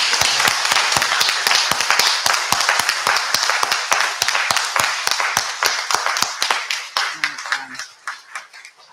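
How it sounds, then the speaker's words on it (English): Audience clapping for kindergarten children at a school speech day, brisk rhythmic hand claps in a steady fast beat that thin out and fade near the end as a voice briefly speaks. "so everyone can give you a big clap"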